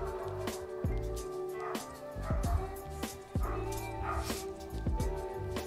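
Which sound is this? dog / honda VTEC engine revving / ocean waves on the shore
dog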